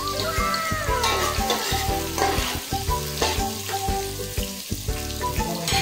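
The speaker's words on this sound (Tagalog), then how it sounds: "nauna talaga ng luya na sinusuti ko para yung aroma" Ginger sautéing in a pan at the start of a sinigang sampalok with milkfish, a steady dense sizzle with frequent scraping stir strokes throughout, close and fairly loud with no talking.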